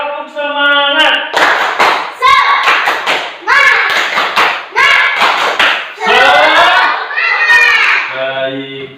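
Schoolchildren in a classroom perform the rhythmic 'tepuk semangat' spirit clap, loud, close patterned bursts of clapping alternating with chanted children's voices in a call-and-response cadence.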